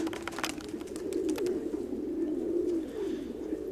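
A pigeon sitting on eggs in a loft coos in a low, rolling, continuous murmur, close by, with faint rustles and clicks in the background.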